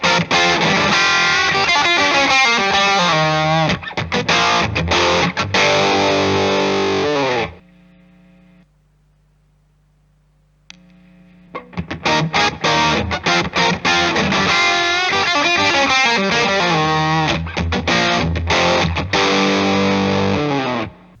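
Electric guitar pushed through Nobels ODR-1 overdrive pedals with gain at 3 o'clock plays thick, saturated chord riffs, breaks for a few seconds of near silence, then resumes with loud, gritty strumming, no voices.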